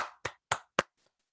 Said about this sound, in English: let's give them both a round of virtual applause here